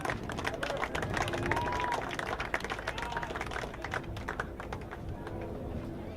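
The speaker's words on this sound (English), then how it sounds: "Please give a nice round of applause for Tyler Jacobson." A crowd at a boys lacrosse senior recognition, Holy Angels versus Benilde-St. Margaret's, gives a continuous round of applause, dense and fairly distant clapping with crowd murmur underneath.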